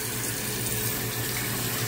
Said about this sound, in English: Rub your hands together. And make some bubbles. And wash our hands.